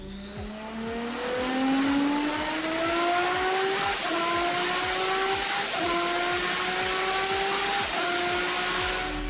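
Alpine Le Mans hybrid race engine screaming on a test bench, loud and close, with steady repeated upshifts as revs climb in stepped sweeps, a high whine riding over the harsh exhaust throughout.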